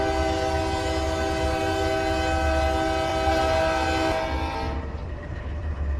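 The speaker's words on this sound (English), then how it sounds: "all horns in this game are probably a little bit real" Train horn in the Blue River Mainline railway game: a loud, sustained multi-tone blast over rumbling engine noise, cutting off near the end while the rumble continues.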